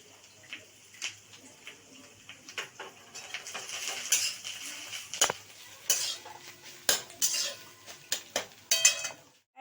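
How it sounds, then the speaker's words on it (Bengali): Bottle gourd frying in ghee in a pan, a spoon scraping and knocking against the metal in irregular strokes over a faint sizzle, close and fairly quiet, no talking. "দেখো আমাদের লাউটা ভাজা হয়ে গেছে এমনি করে ভাজতে হবে"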